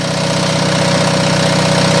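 An Onan diesel generator idles steadily and loudly up close, a continuous even engine drone with a low mechanical knock and vibration, no voices.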